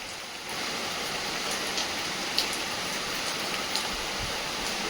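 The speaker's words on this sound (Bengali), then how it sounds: "বৃষ্টি, নাগাড়ে বৃষ্টি," Steady, heavy monsoon rain falls outside without a break, a dense, even hiss of drops with a few louder splashes, heard alone with no talking.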